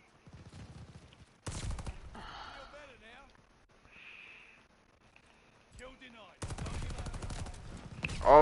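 A gun fires in a video game in bursts of rapid shots, with stretches of quieter game sounds between them and people talking excitedly over the action.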